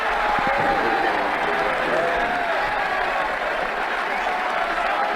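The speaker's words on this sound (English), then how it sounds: "He's getting a polite round of applause as he makes his way to the pavilion." Steady crowd applause rises from a cricket stadium in Ashes Cricket 2009 as a batsman walks off to the pavilion at the close of an innings. The dense clapping holds at an even level throughout and is heard alone, without talk.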